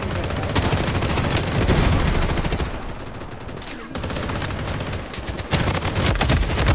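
Rapid bursts of gunfire in the video game Blood Strike crackle loud and close almost without pause, with short lulls, and a voice briefly speaks over the shooting.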